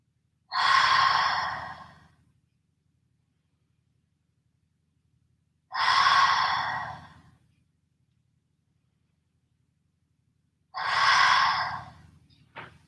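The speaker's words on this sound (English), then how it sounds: "3 more breaths." Three deep breaths, each a long, breathy exhale lasting over a second, during a seated stretching twist. They come at an even pace about five seconds apart, close and clear, with quiet between them.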